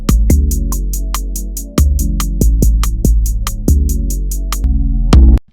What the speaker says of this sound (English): now this would be a two-step pattern in Fruity Loops